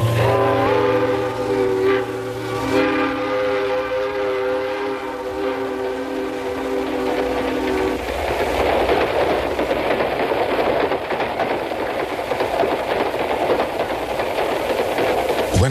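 A New York City subway A train on its run toward Harlem, with sustained horn-like tones over heavy rail rumble that gives way to loud, broadband rolling and screeching noise from the cars, steady and close throughout.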